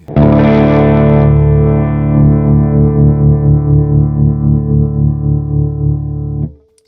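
An electric guitar chord rings through a Stone Deaf PDF-1X parametric distortion filter pedal, thick sustained distorted tone with a slight pulsing wobble, loud and alone before abruptly cutting off.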